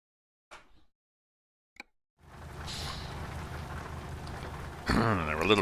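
Rain in the truck-driving game Euro Truck Simulator 2: after a quiet start with a couple of small clicks, a steady dense hiss of rainfall sets in, with a voice speaking over it near the end.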